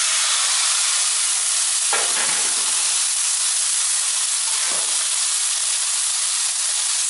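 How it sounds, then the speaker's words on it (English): A leg of lamb searing in a large pan produces a loud, constant hiss like steam, with a couple of brief dips and surges as the meat settles. "so in a large pan, I'm going to start searing my lamb."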